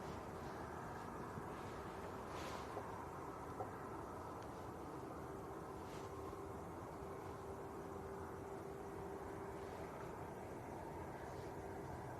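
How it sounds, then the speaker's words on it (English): A Ryanair Boeing 737 Max from Tenerife South is heard at Manchester Airport as a faint, steady jet rumble that holds evenly throughout, distant and without voices. "This is a Ryanair from Tenerife South. This one is a Max."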